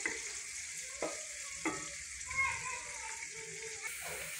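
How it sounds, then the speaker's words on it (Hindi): Onions hiss and sizzle steadily in hot oil for a home-style chicken and kadu curry, with a few sharp utensil clinks and scrapes from stirring. "ऑयल गर्म हो चुका है, अब हम लोग इसके अंदर प्याज डाल रहे हैं।"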